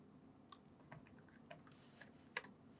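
Code is typed on a computer keyboard in short, irregular bursts of quiet key clicks, close and faint against a low background hum, with no talk.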